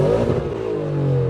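A car engine revs up close, a rough throaty growl that rises and then settles into a steady rumble.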